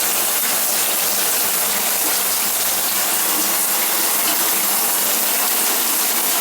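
Steady broadband rush of shower water running from a leaky shower fixture as it heats up, continuous and fairly close, no voices.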